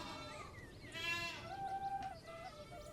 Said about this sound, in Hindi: बकरियां ज़ोर ज़ोर से मिमियाने लगती है